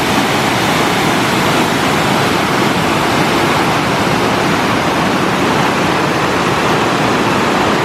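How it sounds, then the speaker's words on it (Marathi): Water from the overflowing Watul dam in Konkan during the monsoon rushes past in a loud, steady, continuous roar, heard close and with no other sounds. "पाण्याचा देखील आवाज खळखळाट जोरात येतोय"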